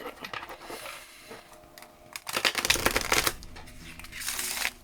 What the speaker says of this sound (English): I'm just gonna shuffle it again.